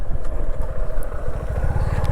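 Suzuki V-Strom 250 motorcycle engine running steadily nearby, a continuous low rumble with a rapid pulsing throb and no talk over it.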